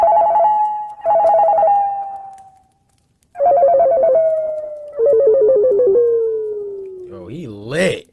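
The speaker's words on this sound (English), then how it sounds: "I remember hearing my cell phone ringing throughout the night." A cell phone ringtone plays close and loud in repeated bursts of a warbling electronic melody, with pauses between rings, ending as a voice begins over it.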